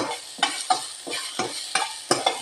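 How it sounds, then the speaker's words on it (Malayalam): Onions sauté in a pan for a papaya masala curry, a soft sizzle broken by about seven loud, regular scraping strokes of a spoon stirring them, close and clear with no talk. "ഈ സവാള ഒന്ന് വഴകാൻ വേണ്ടി ഒരു നുള്ള ഉപ്പ് കൂടി ഇടുക"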